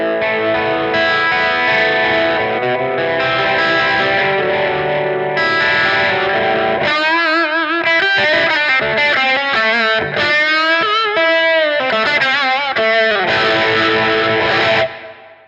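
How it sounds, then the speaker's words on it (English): Electric guitar through an All-Pedal Microdose triangle-wave 8-stage phaser set to low depth and resonance, sweeping with a swirling, chorus-like shimmer over distorted chords and then picked single notes, loud and continuous throughout. "That's a phaser sound I would use a lot."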